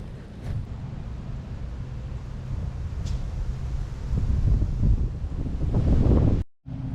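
Wind blowing outdoors at a fishing casting spot buffets the microphone in a steady, loud roar that swells and gusts louder near the end before cutting out briefly.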